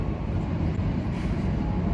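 A train passes close by on a downtown rail line, making a loud, steady rumble that fills the whole stretch with no speech.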